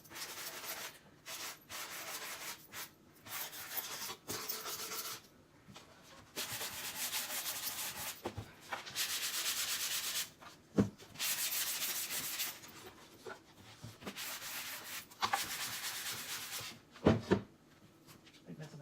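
Hand sanding distresses a chalk-painted wooden tray, with soft scratchy rubbing strokes in irregular bursts, quiet and close, interrupted by brief pauses and occasional louder scrapes.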